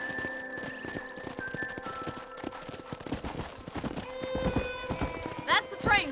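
Horse hooves clip-clop steadily in Red Dead Redemption while people talk over them, a brisk rhythmic trot with a horse's whinny near the end.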